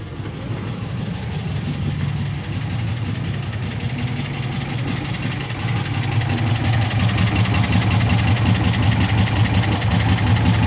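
A Volkswagen Kombi Clipper's original engine idles steadily right after its first start, a loud, continuous low rumble with a slightly knocking, uneven texture and no one talking.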